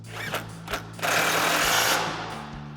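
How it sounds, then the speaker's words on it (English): Impact wrench with an 18 mm socket tightens a sway bar nut on a 4WD Chevrolet Silverado 1500 during a front leveling kit install, two short taps and then a sustained close rattling hammer burst that fades. "grab our 18 mil socket on our impact and tighten that back down"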